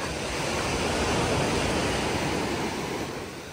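Surf washing onto the small beach at Tropea, Italy, a steady, loud roar of breaking waves that swells slightly and eases toward the end, with no voices.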